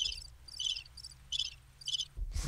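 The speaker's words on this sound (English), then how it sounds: "and maybe a little bit of um, crickets" Cricket chirping sound effect, with five or six evenly spaced bursts of high chirps, faint and steady over a low hum.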